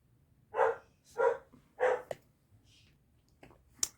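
A pet dog barks three times indoors in a quick, evenly spaced series, close and moderately loud. Brief quiet and a couple of small clicks follow.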